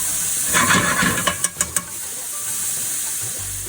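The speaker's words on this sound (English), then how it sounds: "go ahead and cook down your onions and your coconut oil for about 2 or 3 minutes" Onions sizzle in coconut oil with a constant close hiss and a few sharp crackling pops partway through, the frying continuing steadily to the end.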